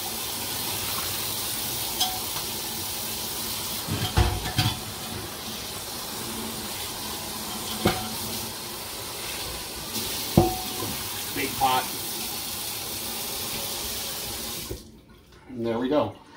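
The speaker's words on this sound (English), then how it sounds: "Now we're going to hit it with water" Running tap water rinses salt out of a hot cast iron pan, a steady wash of splashing and hiss with a few louder clunks of the pan, then cutting off abruptly near the end.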